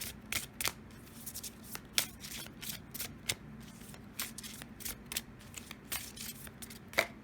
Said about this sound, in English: Let's draw a few Color Goddess casting cards for you as well.